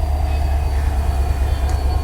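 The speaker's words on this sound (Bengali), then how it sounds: "Titumir express seven thirty three আপট্রাকে চলছে পার্বতীপুর রেলওয়ে জংশন ছেড়ে যাচ্ছে" Titumir Express pulling out of Parbatipur railway junction on the up track, a steady close, loud low rumble of the moving train with faint wheel noise throughout, no voices.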